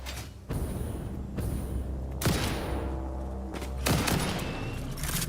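Video game gunshots ring out as loud, sharp thumping blasts spaced a second or two apart over a steady mechanical background hum, with no talking.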